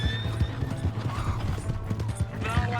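Steady clip-clop of hooves beats under a horse's whinny in the video game Red Dead Redemption 2, close and fairly loud, with a voice speaking over it.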